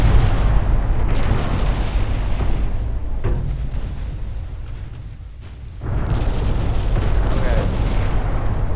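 Warship guns firing on a cruiser in the naval strategy game Ultimate Admiral: Dreadnoughts, a dense, continuous roll of heavy booms with a short quieter dip midway, under a few brief spoken words.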